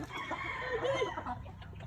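Farm chickens clucking and a rooster crowing close by, a dense, continuous chorus of fowl calls with one brief higher squawk near the middle.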